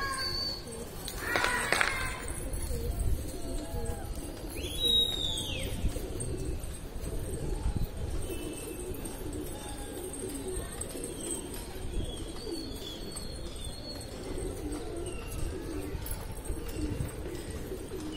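Indian Patiala breed pigeons on a rooftop, with soft cooing and faint bird calls rising over a steady outdoor murmur, a brief sharp chirp standing out near the start.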